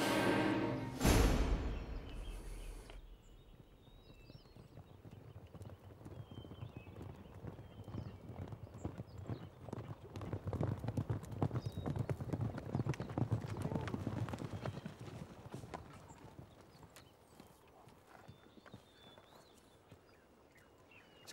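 Horses' hooves clip-clop steadily along at a moderate distance for most of the stretch, fairly quiet, after a brief loud burst at the start.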